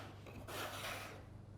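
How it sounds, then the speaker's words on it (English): A scraper rasps across a table gathering potato gnocchi dough in one short, quiet, close scrape. "Just use the scraper just to capture all of the dough."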